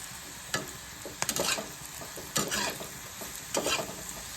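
Okra shallow-frying in a pan with a steady sizzle, stirred in a few scraping bursts spaced about a second apart, close and moderately loud.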